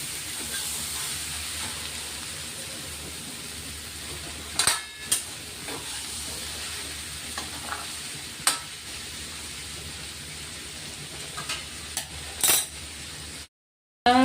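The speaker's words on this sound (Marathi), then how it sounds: "थोडा वेळ परतून घेणार आहे" Okra sautéing in a pan, a steady soft sizzle and hiss running throughout with a few brief clicks and scrapes of stirring scattered across it, no voices.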